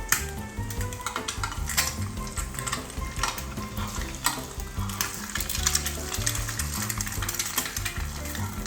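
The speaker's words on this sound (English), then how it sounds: "look at the overall effect of the egg being fried" An egg fries in a graphene non-stick food container on a stove, a steady close sizzle and crackle of hot oil running throughout with no voices.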